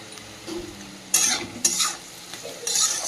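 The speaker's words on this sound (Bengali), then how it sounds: "কেটে রাখা ক্যাপসিকাম সব একসঙ্গে দিয়ে দিলাম দিয়ে সবজিটা ভেজে নেবো ভালো করে" Chopped capsicum and mixed vegetables frying in a pan, a soft steady sizzle broken by a few bright scraping strokes of a spoon stirring them, close and without voices.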